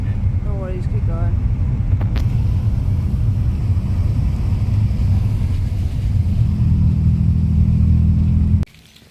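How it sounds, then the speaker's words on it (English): A car drives close by on a road in the Snowdonia and Lake District countryside, a steady loud low rumble lasting several seconds before cutting off abruptly, with a few brief voices early on. "there's a car behind me"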